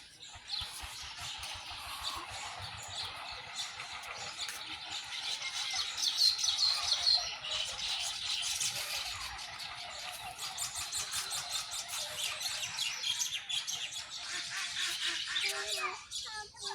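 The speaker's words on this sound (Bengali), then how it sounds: "ওই দেখো তাল গাছে পাখি দেখেছো?" Baya weaver birds chirp and chatter in a palm tree in a Bangladeshi village, thin twittering calls mixed into steady outdoor wind-like noise, with faint voices nearby.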